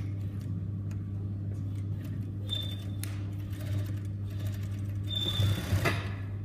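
A sewing machine stitches a skirt hem in bursts of whirring motor and needle rhythm, rising and stopping over a steady low hum, close and moderately quiet with no speech.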